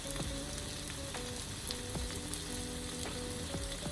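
Spicy sambal sizzles and fries steadily in a pan while being stirred, with scraping clicks from the utensil recurring through the continuous hiss.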